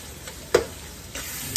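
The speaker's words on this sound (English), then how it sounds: "I will continue to cook the hamburger till it is" Hamburger meat fries in a pan for spaghetti sauce, a constant nearby sizzle broken by a few sharp spatula scrapes and clicks.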